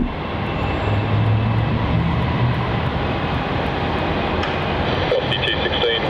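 An aircraft takes off at Melbourne Airport, producing a steady, loud broadband engine roar that holds throughout.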